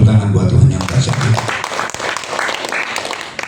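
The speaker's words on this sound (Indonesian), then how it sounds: "Tepuk tangan buat Tuhan yang dahsyat." A church congregation applauds during a Sunday worship service at GPdI Ekklesia in Tanjung Bunga, Makassar, with dense clapping strongest in the first half that carries on under speech and room noise.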